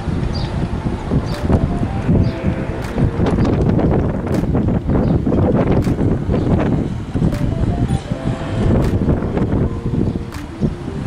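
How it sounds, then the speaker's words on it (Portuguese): Strong gusts batter a handheld microphone outdoors at Sorocaba airport, a loud continuous rumble with repeated sharp buffeting thumps and no voices. "Muito vento bate, não dá pra segurar a câmera"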